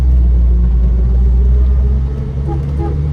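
A 1946 Chevrolet Fleetmaster idles with a loud, low, steady engine rumble as the driver shifts between gears, the drone dipping briefly in pitch and level before settling back.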